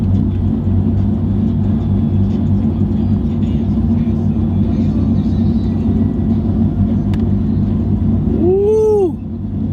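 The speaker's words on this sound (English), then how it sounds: "We got cars all over the place." Steady road-vehicle rumble and engine whir from cars moving around a drifting event at Lanier Raceway, loud and continuous, with a brief rising-and-falling whine near the end as one passes close.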